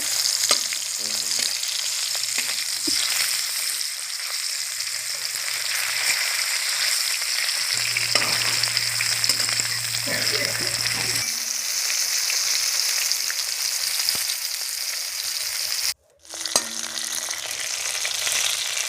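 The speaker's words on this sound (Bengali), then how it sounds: "মাছটা এখন ভেজে নেব কড়া করে। লাল লাল করে ভেজে নেব মাছটা।" Fish frying crisp and golden in mustard oil in a home kitchen, a steady close sizzle running throughout with a few stirring knocks and a brief dropout near the end.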